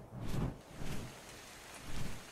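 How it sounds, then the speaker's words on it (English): Steady rain from ARK: Survival Evolved falls on a dark night, a broad continuous wash with soft swells. No one speaks. "It's a dark and dreary night, and it's raining inside"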